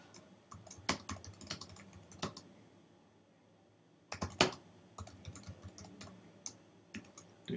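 Fingers type on a computer keyboard in two quick bursts of sharp, close key clicks, separated by a short quiet pause, with no one talking.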